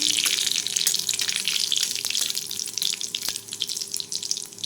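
Whole cumin seeds sizzling hard in hot oil as a tempering, a dense, loud crackling hiss throughout with scattered sharp pops and clicks of a spoon stirring the pan.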